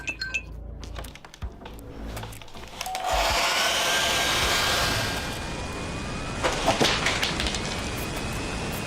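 A hair dryer altered by a mechanic into a jet-engine-like blower starts up with scattered clicks, then runs as a loud, steady roaring rush with a high whine on top, surging slightly toward the end.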